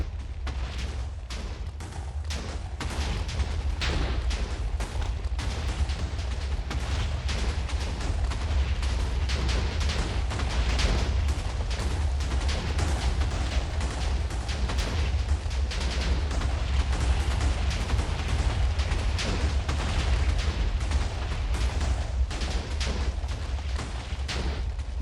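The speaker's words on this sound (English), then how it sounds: "we can clear out this trench and start bombing all the way back down to" Continuous dense rumbling blasts of Minecraft TNT exploding while bombing out a trench, an unbroken roar of overlapping booms with no pauses and no voices.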